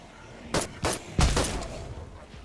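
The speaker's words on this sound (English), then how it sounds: "Let's just shoot him to death." Gunfire in a zombie roguelite video game, a few sharp separate shots in quick succession followed by a heavier blast that fades out, with no talking.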